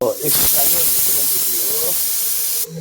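A pressure cooker of mutton gives a loud, continuous steam hiss that holds steady for over two seconds, close by, then cuts off abruptly.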